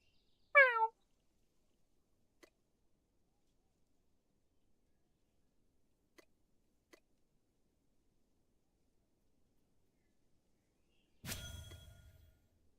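A human voice imitates a cat's meow once, a short bright rising mew near the start, followed by a few faint ticks and a louder thump near the end in otherwise quiet surroundings.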